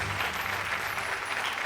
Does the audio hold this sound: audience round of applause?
yes